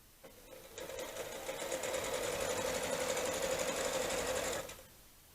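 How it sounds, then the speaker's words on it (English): A sewing machine stitches together fabric pieces for a swan, a steady close mechanical whir running for several seconds before stopping, with no talking. "So then put them together and sew."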